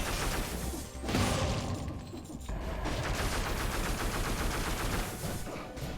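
An AK rifle in the roguelike game Dead Cells fires in dense, rapid bursts, a continuous loud rattle of gunfire with brief gaps.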